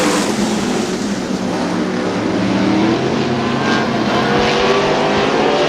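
A pack of 410 sprint cars roars away at a dirt-track race start at Butler, Quincy, Michigan, with dense, loud, continuous engine howl from many cars together and no talk.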